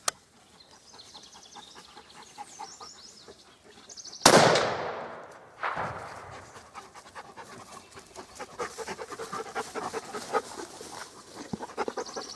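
A single sharp, loud rifle shot fired to test a Tasco scope cracks out partway through. It is followed by a brief echo in a quiet outdoor setting, with faint background rustling and ticking.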